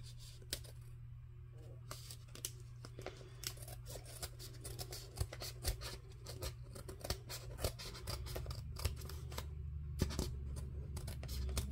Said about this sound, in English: all I'm gonna do is trim it off